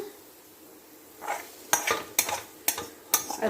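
Ingredients tipped into a pan heated on a gas stove, with a few sharp clattering impacts followed by rising sizzle, close and moderately loud after a quiet start.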